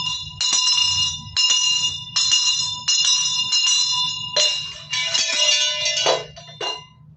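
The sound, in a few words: church bell ringing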